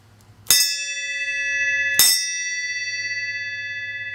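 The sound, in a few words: bell being rung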